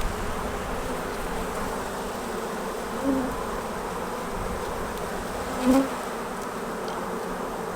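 A steady, dense insect hum fills the space, a low continuous buzzing of honey bees close by in an open hive, with a couple of brief louder swells.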